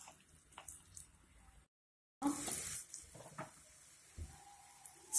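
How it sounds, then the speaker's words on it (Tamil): Banana flower pakoda batter frying in hot oil, a soft crackling sizzle with scattered pops, faint and close, broken by a short silent gap before a louder burst of bubbling. "டீப் ஃப்ரை பண்ணிடுங்க."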